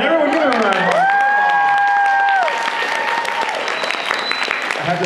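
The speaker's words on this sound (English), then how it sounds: "Everyone give him a round of" An audience at a convention panel bursts into sustained applause and cheering, loud and continuous, with whoops rising over the clapping.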